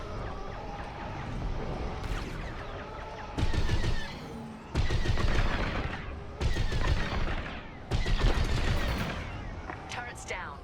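Starfighter blaster fire in the space-combat game Star Wars: Squadrons, loud bursts of rapid shots in several volleys over a steady engine drone, with a voice speaking over the mix.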